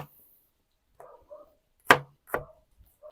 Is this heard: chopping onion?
yes